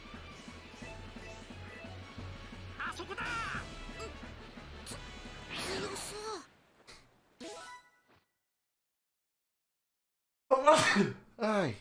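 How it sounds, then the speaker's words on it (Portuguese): A cartoonish sneeze from a Dragon Ball Z Kakarot character, sharp and sudden, comes near the end after game music and effects fade into silence, followed by a second short burst. "Espirro."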